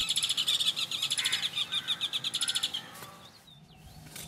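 A pied kingfisher calls in a Pakistani wetland with rapid, shrill repeated chirps in a fast pulsing series, loud and close, then thinning to a few faint calls.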